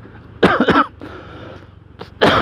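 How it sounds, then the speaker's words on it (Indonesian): One person coughs nearby: a loud double burst, then a quieter pause and a second harsh cough at the end. "Batuk."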